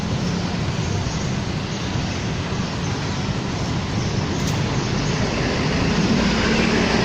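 A steady, loud rumble of the Bangkok Skytrain passing overhead on its elevated track fills the whole stretch, with faint rail clatter and no voices.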